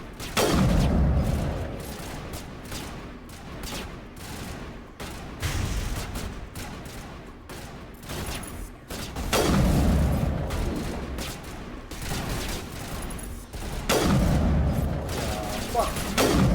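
Gunfire fills the video game Mass Effect Legendary Edition in repeated loud bursts of shots and booms across a battle, with someone talking at times over the fighting.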